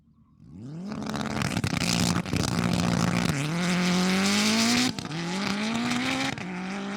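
A Honda Integra drag racing another car, its engine revving hard off the line and climbing through gears with brief shift breaks, loud and close, with a tire chirp at the start and no talk.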